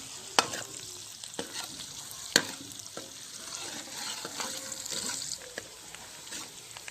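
Onions cook in a pan with a low, quiet sizzle, broken by a few sharp utensil clicks and stirring scrapes, with a faint watery hiss running underneath and no voices.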